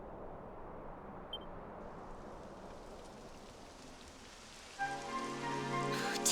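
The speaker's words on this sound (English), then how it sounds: "It would have to go and start raining, wouldn't it?" Steady rain falls in the game Dragon Quest XI S, a soft continuous hiss spread across the clip, joined near the end by a louder tonal swell of music with no talking.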